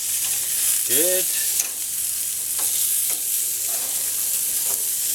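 Pork cooks on a Greek-style BBQ grill with a constant, bright sizzle and crackle, occasional sharper pops, and a brief word spoken over it.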